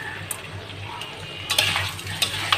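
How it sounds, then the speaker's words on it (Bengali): Spiced, sweetened offering dish being stirred in a pot with a spoon, soft scraping and clinking strokes that grow busier and louder toward the end, over a low steady hum. "দিয়ে ভালো করে নেড়ে নেব।"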